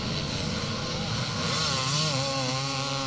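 A 250 Honda Red Rocket motorcycle racing in a scramble, its engine a loud continuous drone that rises in pitch as it accelerates, with an excited commentator talking over it.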